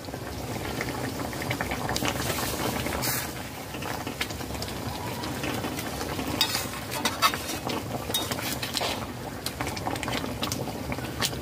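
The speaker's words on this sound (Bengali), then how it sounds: "ঝোল ফুটে উঠেছে" Prawn malai curry gravy made with coconut milk boils steadily in a pan, a close, continuous bubbling and light sizzling with occasional louder pops and no talking.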